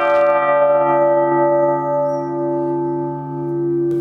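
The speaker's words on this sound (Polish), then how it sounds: "będzie mógł samodzielnie ten dzwon uruchomić" A large church bell, the historic Sigismund III bell in Golub, rings with a long, sustained metallic hum and rich overtones, loud and close, its tone slowly pulsing as it decays.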